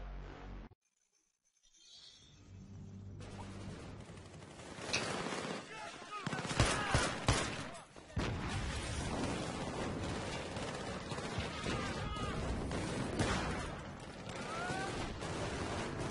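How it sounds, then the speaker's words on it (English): Battlefield 3 campaign combat: bursts of gunfire and explosions begin after a brief silent gap, then build into dense, loud, sustained battle noise with booming blasts and rapid shots. "Just everything's randomly exploding, and another death for me!"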